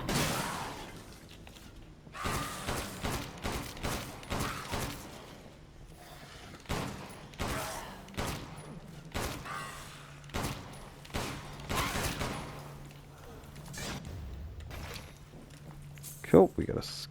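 Repeated gunshots in Resident Evil Village as the player fires at a small red dot. The sharp reports land in uneven bursts of close, punchy shots, with a person talking over and between them.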